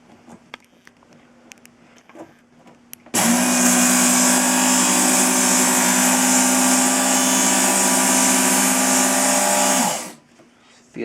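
Work Sharp powered knife sharpener grinding the serrations off a blade: a loud, steady electric whir with a gritty abrasive hiss that starts abruptly, holds constant for about seven seconds, then cuts off.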